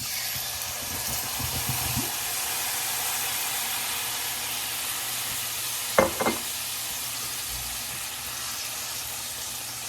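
Oil sizzling in a pan before chicken meatballs go in, a steady, close hiss of frying throughout with a couple of brief utensil knocks partway.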